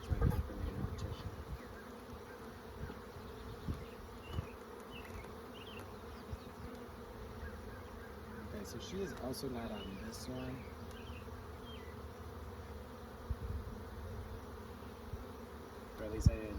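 Honey bees buzzing around an open hive while a third brood box is being added, a steady low drone with occasional louder passes near the microphone, under quiet talk.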